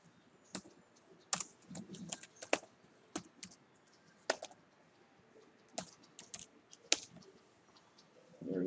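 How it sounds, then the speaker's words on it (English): Computer keyboard keys clicked one at a time while a password is entered, about a dozen sharp, close taps in an irregular rhythm over a quiet room. "So let me type the new password here."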